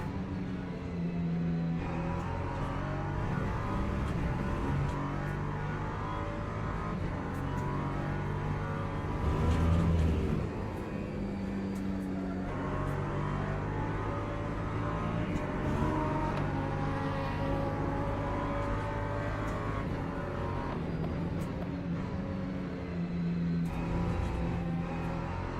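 LMP2 and GT3 race cars roar continuously on track, their engines droning and revving under a sustained mix of passing cars, with a louder swell near the ten-second mark and no voices.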